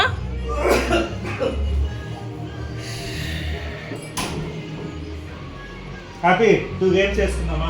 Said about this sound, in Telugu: అలా దగ్గు రావాల్సిందే కదా నాన్న